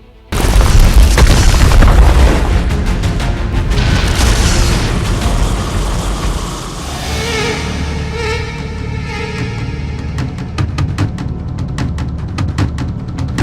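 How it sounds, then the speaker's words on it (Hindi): A loud, sustained barrage of sharp gunshot cracks and booms during the communal clash in Nuh, India, thinning into scattered, irregular shots, with a droning hum underneath. "3 ओर से गोलियां चल रही थी,"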